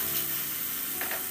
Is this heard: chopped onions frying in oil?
yes